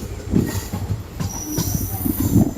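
The 16328 Guruvayur Madurai Express runs on rails between Punalur and Tenkasi via Thenmala, its wheels rumbling and clacking loudly up close with a thin metallic squeal above.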